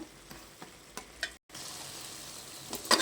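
Crab masala for a quick crab varuval fries in a pan, giving a steady close sizzle with a few stirring scrapes and a brief dropout midway.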